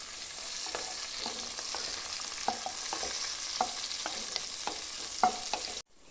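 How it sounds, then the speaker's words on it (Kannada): Cashews frying in a pan for paneer butter masala make a continuous close sizzle, broken by regular light scrapes and taps of a spoon, then cut off abruptly. "ಇವಾಗ ಫ್ರೈ ಮಾಡ್ಕೋಬೇಕು ಚೆನ್ನಾಗಿ"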